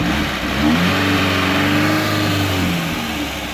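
A Lada Niva with a 2.1-litre engine revs hard and close, the engine note rising and holding for a few seconds before easing off, with no talk over it.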